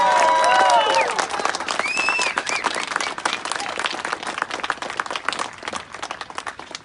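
A rally crowd at a gun-rights march claps and cheers for a state representative, loud and close at first, with whistles over the clapping, then tapering to a thinner, scattered applause.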